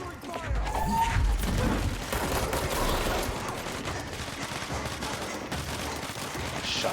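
Sustained gunfire and explosions in the video game Control, a dense continuous barrage of shots and blasts with rumbling impacts, loud and busy, with voices talking underneath.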